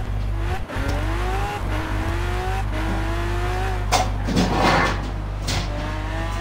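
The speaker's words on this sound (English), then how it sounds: "we're going to take these Lambos on the highway" Lamborghini cars cruising in the Forza Horizon 4 video game, engines humming and rising in pitch through repeated gear shifts, with a low steady drone and occasional thumps nearby.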